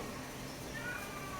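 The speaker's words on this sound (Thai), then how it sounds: "เสียงแมวอยู่ข้างหลัง" A faint cat meow somewhere in the background, short and thin, over a low steady room hum.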